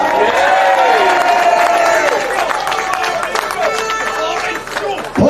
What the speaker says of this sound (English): Yeah, I think he deserves a round of applause for that.